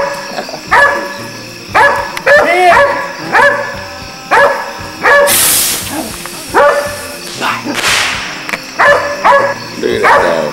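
A dog barks repeatedly in short, loud bursts outdoors during a backyard fireworks gathering, with a couple of hissing firework bursts breaking in between the barks.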